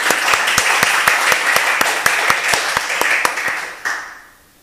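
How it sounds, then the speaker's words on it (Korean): A church congregation at a Sunday worship service claps, a loud, rhythmic unison beat of hand claps over a softer wash of scattered applause, which stops abruptly and fades out near the end. "한 번 더 크게 박수 치시죠."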